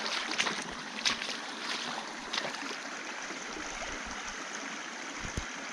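Steady broadband rush of a small forest stream in the Carpathian Mountains, running over stones, continuous and fairly close with a few faint knocks.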